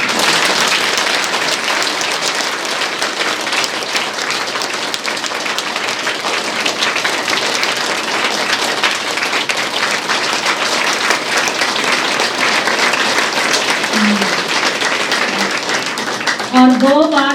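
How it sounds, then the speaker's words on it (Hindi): Audience applauding at a grand welcome ceremony in a Brahma Kumaris hall in Bahadurgarh, sustained loud clapping with a rain-like texture that continues steadily, and a voice briefly heard near the end. "ये बहादुरगढ़ वाली ताली नहीं है भाई"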